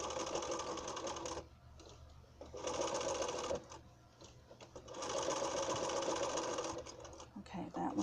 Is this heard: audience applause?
no